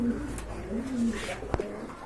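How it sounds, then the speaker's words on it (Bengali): Domestic pigeons kept for sale coo softly in low, drawn-out phrases, a few calls repeating close by against a faint background murmur. "এখানে কিন্তু আরেক জোড়া কবুতর আছে"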